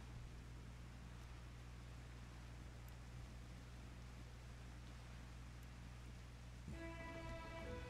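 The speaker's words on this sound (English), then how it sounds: "And in fact, it's raining so hard," Steady video game rain hisses as a continuous wash of noise, fairly quiet, with a low hum underneath and a brief tonal chime near the end.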